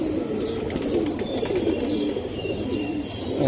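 Giribaz pigeons cooing together in a loft, soft overlapping low coos repeating close by over a steady murmur of birds.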